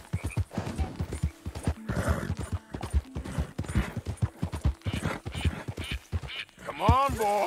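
A horse in the video game Red Dead Redemption 2 clip-clops steadily and close, then gives a short whinny near the end, with someone talking over the hoofbeats.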